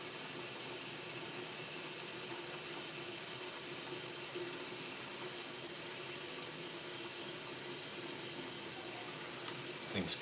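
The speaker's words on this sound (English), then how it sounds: "Filling up a pot to sous vide these steaks." Water runs steadily from a tap into a cooking pot, filling it for a sous vide water bath before cooking steaks; a constant, moderately faint rushing hiss that carries on unchanged, with a brief clatter near the end.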